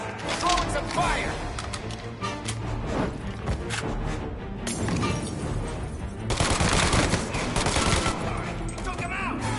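Gunfire in a video game, dense rapid shots and bursts crackling over a busy, noisy battle scene, loud and continuous with a heavier flurry near the end.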